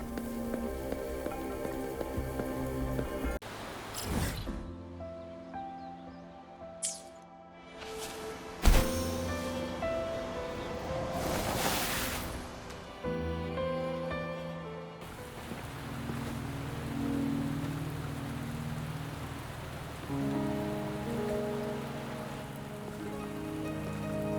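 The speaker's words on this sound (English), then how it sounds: "Are you trapped here by the rain?" Rain falls in the Wuthering Waves video game, a soft steady patter heard faintly under layered musical tones and game effects that shift and cut in and out.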